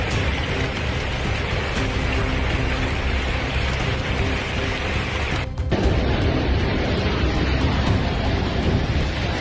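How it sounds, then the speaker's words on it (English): Moderate to heavy rain falling over a coastal city, a dense, continuous roaring wash of noise that stays loud and unbroken, with a short cut partway through. "moderate to heavy rain fell across several coastal and inland cities"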